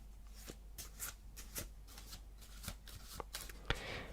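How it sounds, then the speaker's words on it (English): A deck of playing cards is shuffled by hand up close, a quick series of crisp riffling snaps and soft slides in an irregular rhythm, with a sharper tap near the end. "that's shuffling the cards in front of them"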